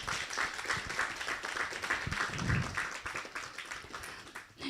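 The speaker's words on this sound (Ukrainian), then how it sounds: "ці оплески також для вас" Applause from a congregation during a Sunday church service, a steady wash of many hands clapping that fills the room and eases off toward the end.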